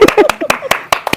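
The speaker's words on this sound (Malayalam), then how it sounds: "അപ്പോൾ ഉള്ള ആൾക്കാരെ വെച്ച് നന്നായിട്ട് കൈയടിക്കാം" A small gathering of people claps in short sharp bursts, uneven and close, with voices talking over and between the claps.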